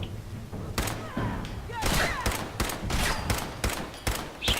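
Pipe rifle gunfire in the video game Fallout 4 during a downtown Boston firefight with gunners, repeated sharp shots and thuds over background game noise, with a voice talking over parts of it.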